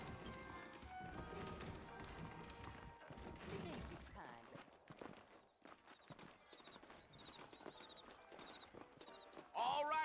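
Horse hooves clip-clopping in Red Dead Redemption, with saddled horses waiting out front. Rhythmic hoofbeats run under game dialogue and background music, with a sharper burst near the end.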